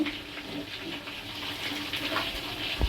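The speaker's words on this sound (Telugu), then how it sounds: "నీళ్ళు తీసుకొని గిన్నె పెట్టుకున్నాను పొయ్యి మీద" Water pours steadily into a cooking pot set on a stove to prepare rice for fish biryani, a soft, constant splashing stream, with a brief knock right at the end.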